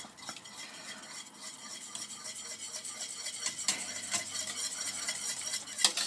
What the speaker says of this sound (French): Voilà, et vous mélangez bien tout ça.